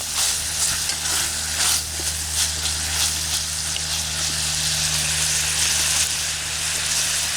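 Bacon sizzling and frying in a pan over a Solo Stove Campfire, a steady close crackling hiss with light popping and a low fire rumble underneath, no voices.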